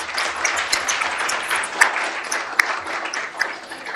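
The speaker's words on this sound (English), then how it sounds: "Can we give a hand clap for our honorees?" Audience applause for honorees at a Richmond city council meeting: a steady wash of hand claps from a seated crowd, moderately loud, with a few sharper individual claps standing out and no talk over it.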